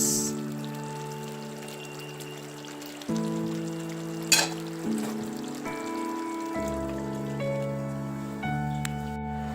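Nigerian mackerel fish stew simmering in a pot after salt is added, a steady bubbling sizzle running throughout beneath prominent background music.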